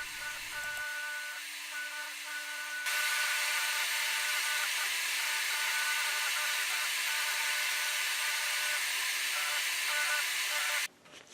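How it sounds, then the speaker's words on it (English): A power sander works the thumb and pinky contours of a laminated knife handle, a hissing abrasive whir that steps up louder partway through and holds steady before cutting off abruptly near the end. "Here I'm sanding the contours for the thumb and the pinky finger of your hand."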